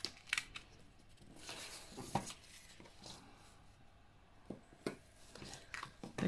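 A craft blade nicks through the corners of card stock while making a fancy-fold concertina card, giving quiet, scattered scratchy cuts and taps that sit close and faint against a low room background.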